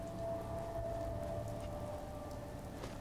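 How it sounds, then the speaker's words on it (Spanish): Steady rain falls in the Fallout 4 game world, a constant hiss of drops on surfaces at moderate level with no talk over it. "Pero esta lluvia es normal, esta no me preocupa"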